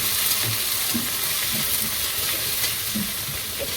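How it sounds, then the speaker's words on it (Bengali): Chopped onions fry in oil in a village kitchen for a jute-leaf and chicken meal, giving a steady broadband sizzle with soft stirring scrapes throughout, close and alone. "পেঁয়াজকুচি বাজা হয়ে গেছে তেল দিলাম"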